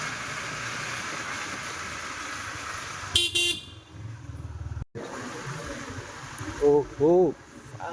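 A motorcycle rider on a Yamaha MT-15 sounds the vehicle horn in two short honks over steady road and engine noise on a wet road.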